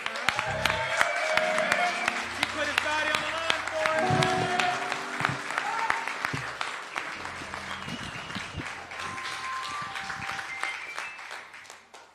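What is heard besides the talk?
audience applause for Bill Cartright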